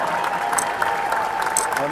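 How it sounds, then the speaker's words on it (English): Fans in an arena applaud the athletes after a wheelchair rugby final at a military sports games, a steady crowd clapping heard under an announcer speaking over the PA. "Fans, can we have a round of applause for all these great warriors that have competed in this event?"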